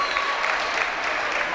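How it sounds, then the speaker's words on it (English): Spectators and players clap at a girls' high school basketball game between LVTI and Nashoba Tech, a steady wash of applause in a gym with a commentator talking over it. "they were just clapping right with the Tigers as well"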